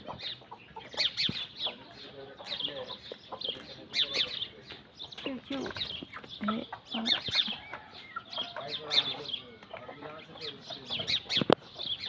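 Village morning birdsong with sparrows chirping in trees, many short bright chirps overlapping at a moderate distance, fairly faint, with a rooster-like cluck and occasional voices mixed in.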